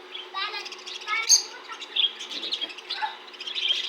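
Colourful Australian parrots chirp and tweet in quick, busy bursts, close and fairly bright, with several birds calling over one another throughout.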